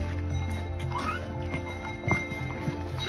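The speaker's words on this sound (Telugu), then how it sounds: "నడవలేని వాళ్ళు ఇట్లా గుర్రాలు వెళ్ళొచ్చు." Horses carry pilgrims through snow at Muktinath in Nepal, with hooves clopping on the trail and an occasional whinny against a steady outdoor background.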